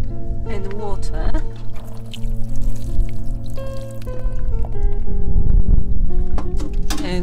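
Water is poured over compost covering freshly sown sweet pea seeds, a steady splashing trickle running for several seconds beneath a steady music bed and a person talking.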